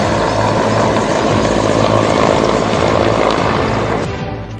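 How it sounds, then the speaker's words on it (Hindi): An Air Force Mi-17 helicopter spraying pesticide over locust swarms near Jodhpur and Jaisalmer drones loudly and steadily with thumping rotor and engine noise, fading slightly at the end. "आप तस्वीरों में देख सकते हैं कि कैसे जोधपुर और जैसलमेर में हेलीकॉप्टर से कीटनाशक का छिड़काव कर टिड्डियों को भगाया जा रहा है।"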